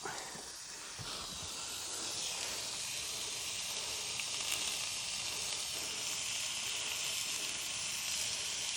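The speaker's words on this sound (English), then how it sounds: "Here it is, sizzling away." A large pork tomahawk steak sizzles loudly on a hot grill outdoors beside a motorway, a steady hissing crackle that stays constant throughout with no talking over it.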